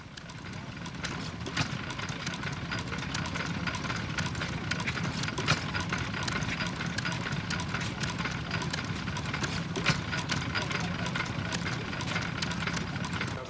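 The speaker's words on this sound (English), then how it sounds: "Ignition is low tension with a Webster tripolar magneto, and the governing system is hit and miss." A 1910 Massey Harris No. 1 stationary engine with Webster tripolar magneto low-tension ignition and hit-and-miss governing runs with a steady, loud chugging. Regular sharp beats repeat over a dense, continuous mechanical din.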